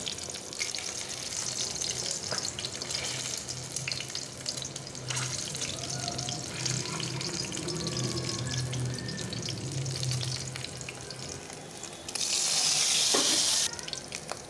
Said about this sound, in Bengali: এই তেলের মধ্যে আমি ডিমটা সুন্দর করে ভেজে নেব।